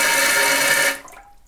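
Bidet spray from a newly installed toilet seat attachment, a strong steady hiss of water running loud for about a second before cutting off into a fading trickle.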